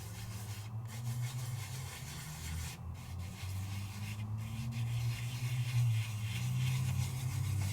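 A fingertip rubs foil flakes firmly over glue on a holiday card, giving a steady close scratchy rubbing with a low hum underneath and a few brief pauses.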